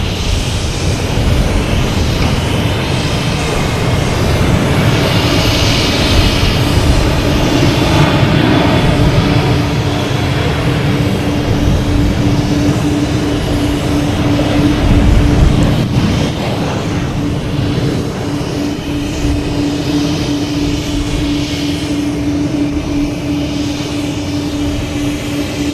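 An American Airlines Embraer E175 jet airliner at Boston Logan Airport, a loud, continuous engine roar with a steady whine sustained throughout, heard close and with no voices over it.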